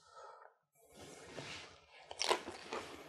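Close, loud crunching as crunchy nachos topped with black beans are bitten and chewed, with a quiet pause before a run of sharp crisp crunches.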